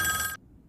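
A telephone bell rings loudly in a short metallic burst that cuts off abruptly, leaving faint low room noise.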